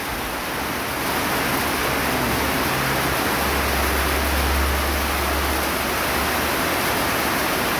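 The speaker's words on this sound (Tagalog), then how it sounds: "Umulan na." Steady, loud rainfall keeps up a dense, even wash of noise throughout, with no talk.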